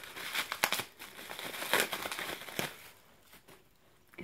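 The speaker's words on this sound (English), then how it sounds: "I'm going to keep pulling this paper off." Paper wrapping crinkles and tears as it is pulled off an item from a Japanese-themed subscription box, a close run of dense rustling bursts that thins out and leaves scattered faint crinkles near the end.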